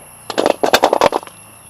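Jaggery is tipped out into a pan on the stove, producing a quick burst of loud, close rattling knocks and clatters lasting about a second.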